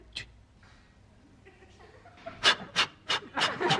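Laboured, panting breaths from a person, starting faint and uneven, then five loud, sharp rasping gasps in quick succession near the end, close up and with no talk.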